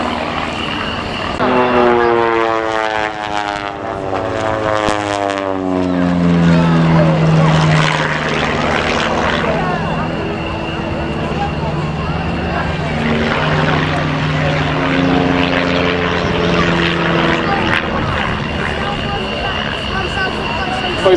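Propeller aircraft of an aerobatic team flying in formation at an airshow, engines droning loudly with a strong rising and falling Doppler sweep as they pass overhead, while a commentator talks throughout.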